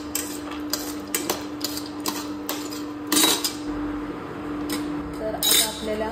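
Almonds roasting in a pan while a spoon stirs them. Irregular metallic clinks and scrapes land against the pan over a steady low hum, with a few sharper knocks standing out.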